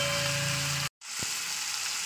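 Chopped tomato going onto potatoes in a hot pan, a steady loud sizzle and fry that breaks off for a moment, then picks up again with a soft bump as the pieces land.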